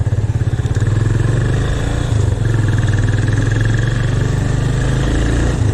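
A motorcycle ridden and turning on a road near Bhaktapur, its engine thrumming loud and steady close by throughout, with a slight dip as it turns and no voices.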